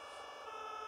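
A fire truck siren in a German firefighter video game, a steady sustained wail heard faintly and continuously with no talk over it.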